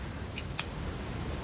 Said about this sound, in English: we can cut the corner off.